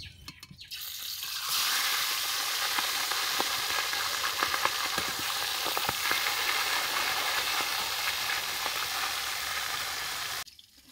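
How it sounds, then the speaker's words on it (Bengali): Rohu fish heads go into hot oil. After a quiet first second, a loud, dense sizzle and crackle erupts close by, holds steady for about nine seconds, then stops suddenly. "মাছের মাথাগুলো ভেজে নেব।"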